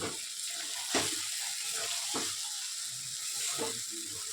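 Meat braising in oil in a pan gives a steady, close frying sizzle throughout, with a few louder scrapes as it is stirred.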